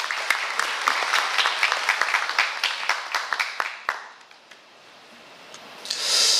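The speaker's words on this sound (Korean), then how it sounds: "큰 박수 부탁드립니다" An audience claps heartily at a Gangwon Special Self-Governing Province briefing session as a council vice-chair is welcomed; dense applause carries for about four seconds, then thins to scattered claps and quiet murmur.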